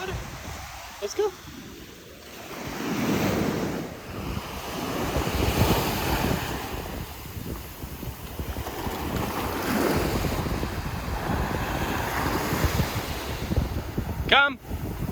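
Ocean waves breaking on a beach, a steady loud wash of surf mixed with wind rumble on the microphone, continuing throughout with a brief sharp sound near the end.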